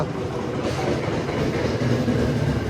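A train in Japan rumbles steadily past with a continuous low roar and faint rhythmic clatter, loud and close throughout.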